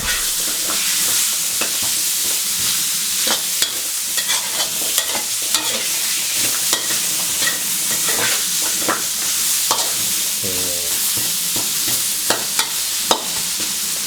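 Pork and pumpkin stir-fried in a hot pan for a Thai dish, with a steady loud sizzle and repeated clanks and scrapes of a spatula stirring throughout, close up and without talk.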